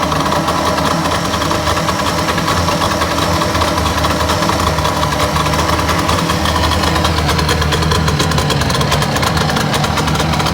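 A warmed-up 1962 Johnson 75 hp outboard engine idles close and loud, a continuous rough, knocking drone with a steady mechanical rattle and no talking over it.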